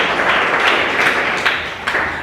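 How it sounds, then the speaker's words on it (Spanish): A church congregation claps in welcome to the Lord during a Sunday service, steady dense applause from many hands filling the room without a break. "el pueblo de Dios da aplausos de bienvenida al Señor"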